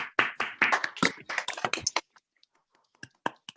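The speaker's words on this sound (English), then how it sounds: "give a round of applause to our editors for all these wonderful insights and their time today" Meeting participants give a round of applause, a burst of close, dry hand claps that thins after two seconds into a few scattered claps.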